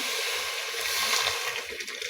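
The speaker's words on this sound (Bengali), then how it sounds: "সিদ্ধ করা পানি ঢেলে দিলাম" Pre-heated boiled water pours steadily into a pot of red lentils, a continuous close splashing gush lasting a couple of seconds with no voices.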